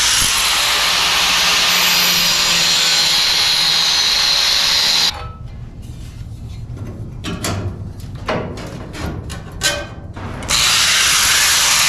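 Power tool cutting a flange off a 1957 GMC cab corner panel, a loud continuous grinding roar that cuts out midway for a few seconds of clanks and taps before the harsh cutting resumes, close and dominant.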